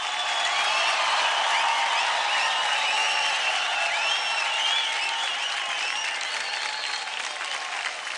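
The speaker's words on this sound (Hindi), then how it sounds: "जोरदार तालियां मास्टर रेमो के लिए" Loud, sustained applause from a studio audience at a televised dance competition show, dense clapping and a little crowd noise that holds steady throughout.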